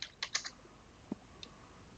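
Several quick keystrokes on a computer keyboard while searching for Google Fonts, a brief burst of clicks followed by a couple of isolated taps, close and fairly quiet.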